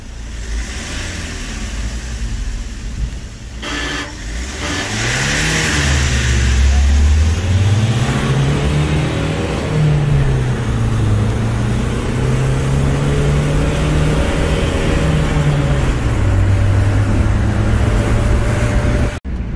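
Mahindra XUV, Scorpio and Thar SUVs accelerating hard side by side in a drag race, a loud engine roar rising through gear changes and holding high, with people talking over it.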